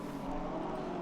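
Multi-class race cars sweep past at Circuit de la Sarthe, Le Mans, in the Automobilista 2 racing game: a faint, steady engine drone held for a moment.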